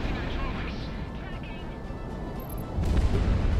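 Explosion in the combat flight game Project Wingman during an attack on tanks and refineries, a heavy low rumbling blast swelling near the end over steady engine and battle noise, with speech present.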